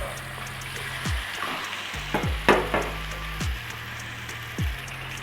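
Chicken pieces frying in a masala curry base for a creamy pineapple chicken curry, a steady soft sizzle with scattered crackles and a few clanks of stirring, close and without talk.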